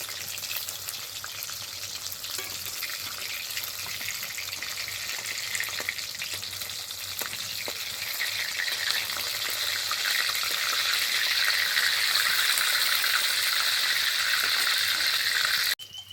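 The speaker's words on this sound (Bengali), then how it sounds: "বড়াটা এক পিঠ ভালোভাবে ভাজা হয়ে গেছে, এবার উল্টে দেবো।" Continuous close sizzling of shrimp fritters wrapped in pumpkin leaves frying in hot oil, a steady crackling hiss that grows slightly louder over time.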